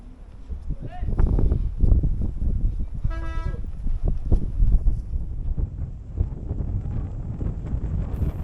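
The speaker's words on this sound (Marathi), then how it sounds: "इथे वाऱ्याचा वेग जरा जास्तच जाणवत होता आणि ते वारंही खूप बोचरं होतं." Strong, biting wind buffets the microphone on the mountain road between Kaza and Manali in Spiti Valley, loud gusting rumbles throughout with a brief horn-like toot in the middle.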